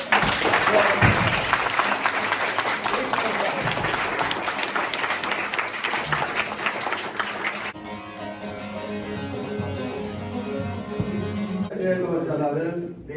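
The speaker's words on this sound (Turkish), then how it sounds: "Büyük komutan Gazi Mustafa Cemal Atatürk'e de bir alkış vuralım." An audience applauds Atatürk at a folk minstrel tradition event, loud sustained clapping for several seconds that suddenly drops away, followed by lingering sound and faint voices before ending.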